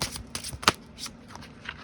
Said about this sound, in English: I'm shuffling below just because these decks are so big for my hands